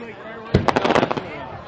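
Fireworks exploding at a July 4th display in Negaunee, 2010: a sudden burst followed by a rapid run of crackling pops lasting about a second. People talk nearby.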